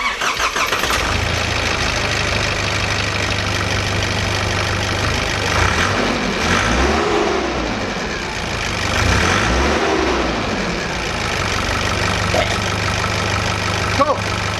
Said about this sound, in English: it's time to start this big rig up and make sure it runs